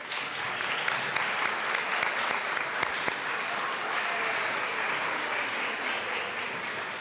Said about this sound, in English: Let's please give them a hand of applause